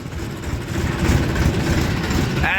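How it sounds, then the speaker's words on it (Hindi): A tractor engine labours in third gear on a damaged, pitted brick road, a steady low rumbling drone that holds loud and close throughout. "तीसरे गेयर में ट्रैक्टर चल नहीं पाता बिल्कुल भी।"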